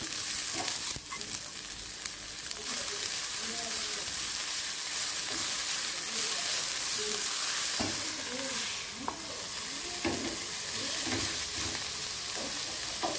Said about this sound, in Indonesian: Tumis bawang putih, bawang merah sampai wangi.